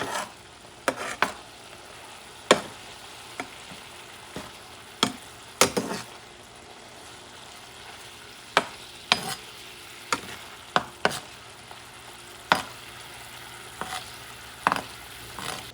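Black squid ink pasta sizzles steadily in a pan with white wine and butter as a utensil stirs it, sharp scraping and tapping clicks recurring irregularly over the constant frying hiss.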